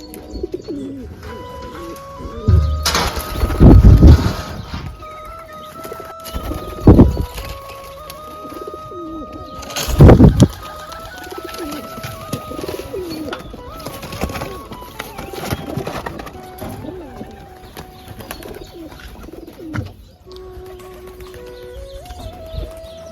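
Soft, repeated pigeon coos over a steady background, broken by a few loud thumps and bumps close by.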